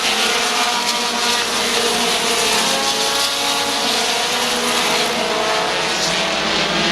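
Race cars roar wheel to wheel at Midvale Speedway during the 2021 fall classic, a loud, sustained engine blare from the pack with no breaks.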